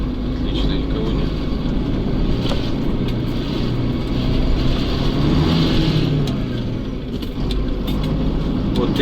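Volvo F12 truck driving with a loud, steady diesel engine drone and road rumble throughout, the note shifting slightly as gears change, with faint speech underneath.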